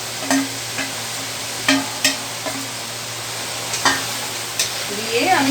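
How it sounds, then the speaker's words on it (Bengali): Spices stir-fried with ridge gourd, potato and prawns in a pan: a steady close sizzle broken by sharp, scattered scrapes and knocks of the spatula, with a low hum underneath. "মশলাটা কষে নেব।"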